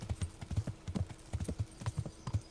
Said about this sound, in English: a very creepy teleporting horse that just magically appears when I summon it